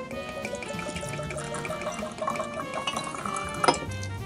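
Woodford Reserve Rye whiskey pours from a heavy bottle into a glass, a steady liquid trickle with glugging and faint clinks, close and alone, ending with a brief glassy knock.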